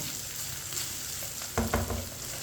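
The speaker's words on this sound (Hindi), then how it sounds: "चिकन को मैंने 4 मिनट के लिए चम्मच चलाते हुए पका लिया है।" Chicken pieces frying for a macaroni dish, stirred with a spoon: a soft continuous sizzle with a few louder scraping stirs near the end, no talking.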